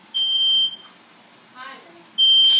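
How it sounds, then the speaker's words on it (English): A smoke alarm gives two loud, high electronic beeps, one at the start and one at the end, with a brief burst of speech in the quiet gap between them. "alarm baj raha dekho."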